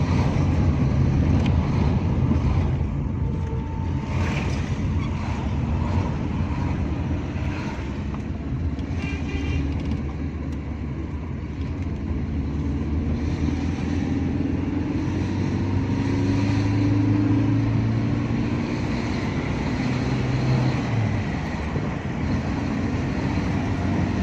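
A Suzuki Baleno petrol engine, running again after a fuel pump fix and a debris-clogged tank clean-out, hums in a steady low drone that shifts slightly midway, with nobody talking.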